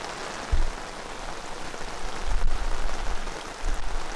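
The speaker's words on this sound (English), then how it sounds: "We're just gonna sit here and wait for the rain to stop." Heavy rain pours steadily in Yangshuo, Guangxi, a dense broadband hiss with a few dull low thumps, close and continuous with no voices.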